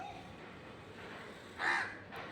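A single harsh crow caw rings out against quiet outdoor background noise, with a faint second call trailing off right after.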